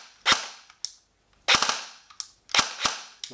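A Saigo Defense Ronin airsoft AEG rifle with a short barrel fires sharp, loud shots close by, in short bursts of one to three cracks separated by brief pauses.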